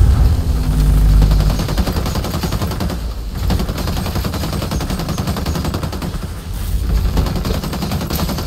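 Rapid pistol fire in the tactical shooter Ghost Recon Breakpoint, dense overlapping shots and impacts at loud volume, almost continuous for the whole stretch with a brief dip in the middle.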